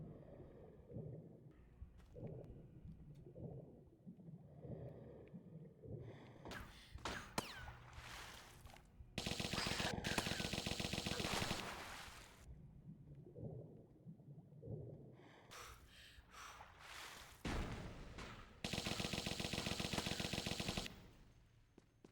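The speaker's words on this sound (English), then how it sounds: "He was shooting at the wall." Bursts of machine gun fire in the video game Tomb Raider 1 Remastered, with sustained rapid rattling volleys at fairly low level alternating with quieter stretches of game ambience and scattered shots.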